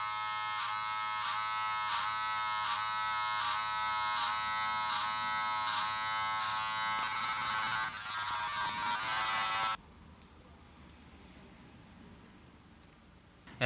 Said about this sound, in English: The clipper wasn't enough to bring out the zero line.